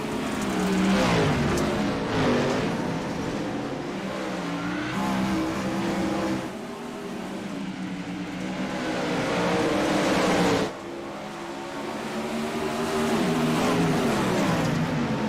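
Open wheel race cars roar off the start of a heat race at Cedar Lake, their engines blaring loud and continuous, rising and falling as the pack accelerates past.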